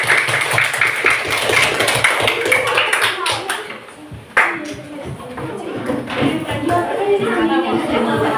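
Classroom applause for a student group after a history presentation, scattered clapping and taps from students mixed with voices talking, a sharp thump midway, then chatter continuing.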